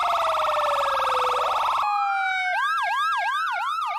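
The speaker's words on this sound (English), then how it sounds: "It's a police car." A police car siren blares loud and near. A sliding wail shifts into a fast, repeating yelp pattern, with no voices over it.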